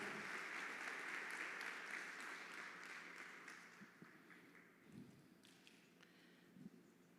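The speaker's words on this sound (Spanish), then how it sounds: "denle un fuerte aplauso al Señor" Church congregation applause during a worship service, loud dense clapping at first that gradually thins and fades, leaving scattered claps and a few shuffling thumps toward the end.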